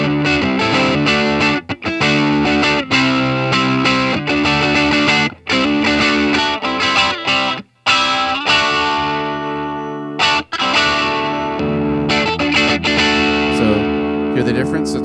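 Fender Baja 60s Telecaster with pickups switched out of phase, a thin, hollow, nasal tone, strummed chords and riffs played continuously with brief gaps, distorted and fairly loud.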